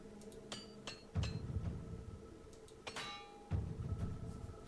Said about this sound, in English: Go on then, let's hammer me mace.